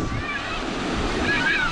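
A big ocean wave rolling in on the shore, a steady rushing surf roar with wind buffeting the microphone, close and continuous, with voices talking over it.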